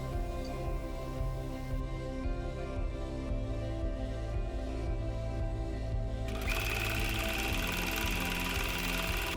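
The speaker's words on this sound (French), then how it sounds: "Je vais aller coudre à la machine ici" A sewing machine stitches the pocket of a faux fur tote bag, whirring steadily at close range with a faint repetitive mechanical rhythm and a brighter buzzing pitch in the final seconds, no voices.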